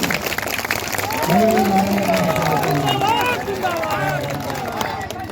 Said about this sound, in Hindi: एक मरतबा जोरदार तालियों से संजय गांधी को